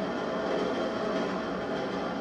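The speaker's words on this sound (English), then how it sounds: "So I got on the train." Train ride in the video game GTA 5, a steady dense rumble of rolling rail noise with no pauses, loud and continuous throughout, with no voices.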